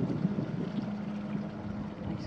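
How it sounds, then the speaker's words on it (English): A quiet boat engine hums steadily on a cormorant-watching trip, a low, even drone with breezy noise, and no voices stand out. "Nice quiet engine."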